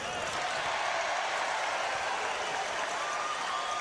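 A basketball crowd at a 1998 Adelaide 36ers versus Sydney Kings game applauds and cheers, a dense sustained wash of clapping and noise that stays loud and even throughout.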